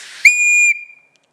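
A whistle gives one short, loud blast, a steady pure tone lasting about half a second, heard close and alone before it cuts off into silence.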